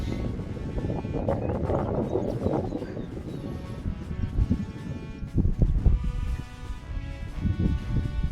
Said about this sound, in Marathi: असं छानसं असं वारं उडून येत आहे